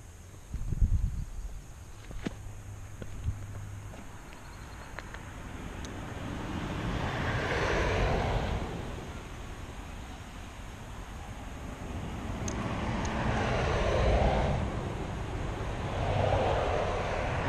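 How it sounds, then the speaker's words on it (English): Steady broadband road noise from a moving vehicle on a fishing trip, a continuous rushing roar with wind buffeting that swells and fades, a few brief thumps near the start, and no talk. "I do apologize for the road noise."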